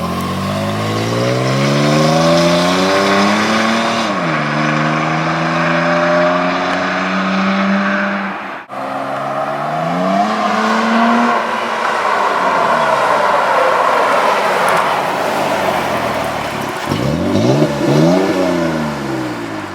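A third-generation Toyota Tacoma pickup with an off-road exhaust revs loudly and repeatedly, engine pitch rising and falling through several throttle blips, close by and continuous.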